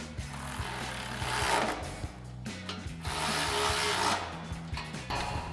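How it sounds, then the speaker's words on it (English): Hand ratchet with a 13mm socket tightening bolts on a Body Armor 4x4 Ambush XT front bumper on a 2010-2018 RAM 2500, a steady series of close clicking pawl strokes in several runs with brief pauses. "grab our 13mm socket on our ratchet and a 13mm wrench to tighten these down"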